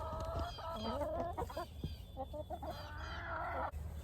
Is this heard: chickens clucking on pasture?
yes